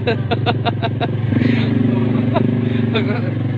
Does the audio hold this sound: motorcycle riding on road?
yes